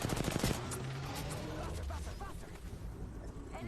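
Rapid bursts of video game gunfire crackle loudly at the start, then continue as a denser, rattling barrage of shots over a steady background of game noise.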